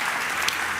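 Church congregation applauding during a Spanish-language sermon, a steady wash of clapping heard briefly with no talk over it.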